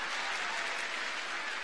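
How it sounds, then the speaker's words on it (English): Dense, steady hand clapping from a school assembly crowd on MLK Day, a continuous wash of applause without pauses over a short stretch, fairly quiet and even. "Clap your hands"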